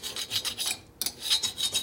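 A hand scraper rasps residue off a 1967 74ci Harley-Davidson Shovelhead part in a series of short, close scraping strokes with a brief pause midway, and no talk.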